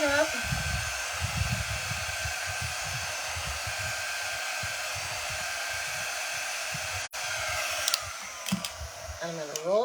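A hair dryer blows steadily to dry wallpaper-style paste on a decorative craft surface, a continuous broadband whoosh running almost the whole time with one brief cutout near the end and faint handling noises after.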